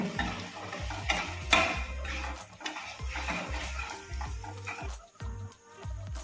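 Spiced paneer masala with coriander powder is stirred in a pan, with rhythmic scraping strokes over a soft sizzle, close and fairly loud.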